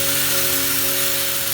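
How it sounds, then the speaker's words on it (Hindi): Ghee and paratha batter sizzling on a hot tawa griddle, a loud, dense and unbroken hiss over a faint steady hum, with no talking. "तवे पे डालेंगे हम थोड़ा सा घी और इसके ऊपर डालेंगे हम बैटर जो हमने बनाया है"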